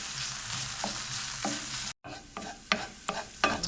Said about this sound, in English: we've been stirring these mushrooms around with the double concentrate tomato paste for somewhere between 1 and 2 minutes